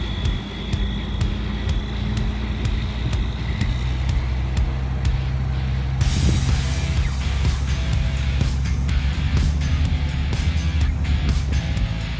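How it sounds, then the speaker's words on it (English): A big rig truck drives through a cleared path, its engine a deep, continuous rumble with a steady drone, and brief rattles and clanks partway through. "First big rig to drive through the cleared path"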